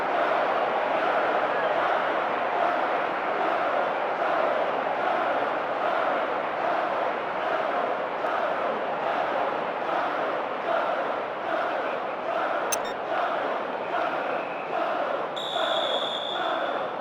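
A dense stadium crowd roars and chants continuously at high volume, with a rhythmic pulsing swell and a brief whistle near the end, in a Pro Evolution Soccer 2010 Champions League match.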